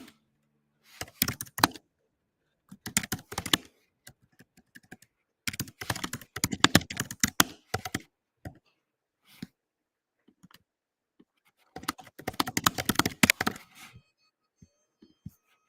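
Close computer keyboard typing comes in several separate bursts of rapid key clicks, with silent gaps between them and no talking.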